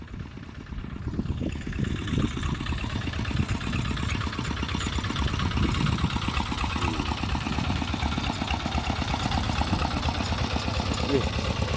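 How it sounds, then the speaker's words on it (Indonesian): A tractor engine tilling rice-field soil chugs steadily at close range with a dense, rhythmic low rumble and rattling clatter that holds constant throughout, with no pauses. "suara traktor ini untuk mengolah tanah ini"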